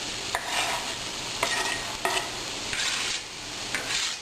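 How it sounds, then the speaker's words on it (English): Chopped onions sauté in a little oil in a pan for taco filling, giving a steady close-up sizzle and frying hiss broken by several brief scraping stirs. "now we're going to saute these onions"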